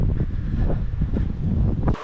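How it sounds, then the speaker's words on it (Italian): Strong wind on the coast of El Hierro near the port, buffeting the microphone with a constant loud rumbling roar and gusty fluctuations, no voices. "C'è sempre vento, sempre nuvole"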